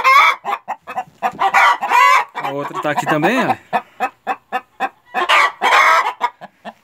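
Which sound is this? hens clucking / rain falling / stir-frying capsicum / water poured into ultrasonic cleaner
hens clucking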